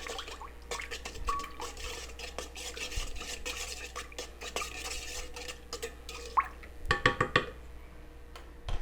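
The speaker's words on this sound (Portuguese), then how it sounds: "coloquei aqui a pasta saborizante, vou misturar aqui levemente com a colher" Flavouring paste mixed lightly with a spoon in a bowl for chocotone panettone dough, with a run of soft wet stirring sounds and small clinks, close and quiet, ending in a few sharper knocks.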